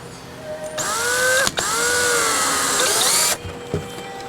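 A power drill drives a screw into a small wooden carpenter bee trap box, a single steady whirring burst of about two and a half seconds with a brief pause partway through, close and loud.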